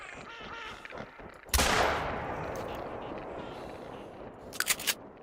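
A shotgun fires a single loud, sharp blast with a long fading echo while duck hunting for cinnamon teal at Parque Fernando, followed a few seconds later by faint clicks and rattles.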